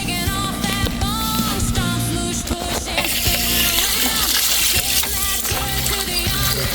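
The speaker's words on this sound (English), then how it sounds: "There goes the water." Water gushes from a hose into a sewer clogged with roots and two-ply toilet paper, a steady loud splashing rush that continues throughout amid clanks and other activity.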